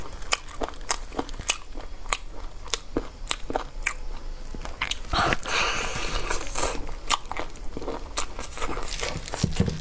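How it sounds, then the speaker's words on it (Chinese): Close, crisp bites into crunchy cartilage, eaten alongside sausage with spicy sauce, give repeated sharp crunches and cracks in an irregular chewing rhythm, loud and near. "这脆骨好吃的，咬起来这里疼"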